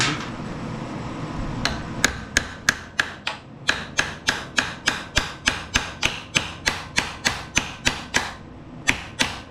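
A puller at work on a Honda GCV190 engine from an HRX217 lawn mower gives off a steady run of sharp, loud metallic clicks or knocks, evenly paced at a few per second and close by, with no talk.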